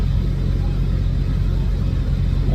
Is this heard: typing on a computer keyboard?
no